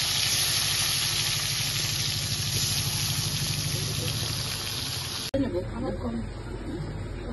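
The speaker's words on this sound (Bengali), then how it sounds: "বাকি মাছগুলো ভেজে নেবো" Steady close sizzling and hissing of rohu fish frying in hot oil, continuous and fairly loud, with a brief clatter near the end.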